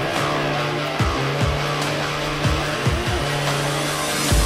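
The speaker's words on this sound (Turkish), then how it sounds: "Benzin aldım arabayı." A Tofaş car engine revs steadily and loudly close by, its drone rising and falling in repeated pulses with brief tire or gear noises, and no one talking.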